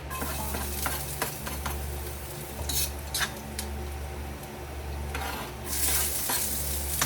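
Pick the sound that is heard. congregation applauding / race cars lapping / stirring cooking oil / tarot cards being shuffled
stirring cooking oil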